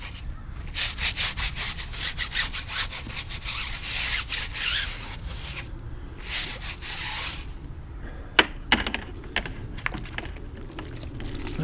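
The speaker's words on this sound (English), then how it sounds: "I'll just use the tire brush and scrub away a little bit" A tire brush scrubs degreaser into the tires of an AP2 Honda S2000 with quick, rhythmic back-and-forth bristle strokes up close, ending in a few sharp knocks and lighter brushing.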